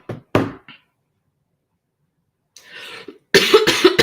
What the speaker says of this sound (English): Can't get over this dang on cough.